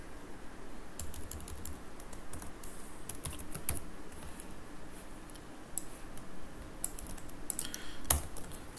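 Rapid, uneven keystrokes on a computer keyboard clatter close by in bursts, with short pauses between them and one sharper click near the end.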